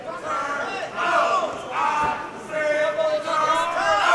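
Crowd at an AAMMA 44 mixed martial arts event shouting and yelling in waves, a loud roar that rises and falls across the venue with no clear pauses.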